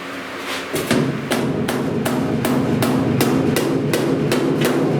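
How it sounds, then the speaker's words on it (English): Steady, evenly spaced metallic taps of a hammer head on a truck door's sheet metal, about two per second, loud and close with a ringing resonance. "So I'm gonna give it a little kiss with the hammer head."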